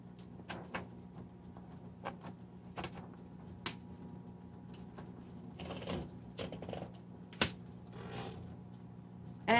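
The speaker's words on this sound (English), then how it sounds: "let's go ahead and do some typing and see how he does." Typing on a 1970s Coronet Electric 12 electric typewriter with an extra-long carriage: sharp, irregular key strikes over a steady motor hum, close and fairly quiet, with a louder clack near the end.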